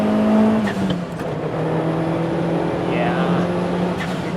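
A turbocharged Toyota Starlet Glanza V accelerates in first gear as boost builds, its engine note climbing steadily and droning loud from inside the car with a faint whistle over the rising hum.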